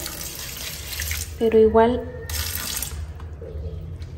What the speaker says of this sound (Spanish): le voy a poner agua